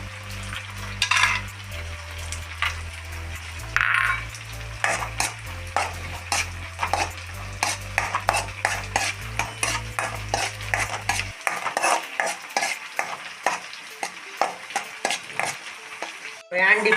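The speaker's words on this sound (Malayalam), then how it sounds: "ഞാൻ ഒരു ചട്ടി വെച്ചിട്ടുണ്ട്. അതിൽ കുറച്ച് അണ്ടിപ്പരിപ്പ് ആദ്യം വറക്കണം." Cashew nuts fry in a pan on the stove with a steady sizzle while a spoon repeatedly scrapes and clinks against the metal, and a low burner hum drops out partway through.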